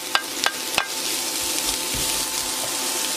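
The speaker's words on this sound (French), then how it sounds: "Allez, je verse donc les poivrons et les oignons." Sliced peppers and onions tipped into a pan over low heat, giving a steady soft sizzle after a few sharp clatters as they drop in, with no talking.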